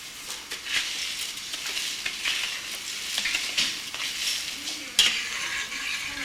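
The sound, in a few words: stirring washed rice into sauce in a saucepan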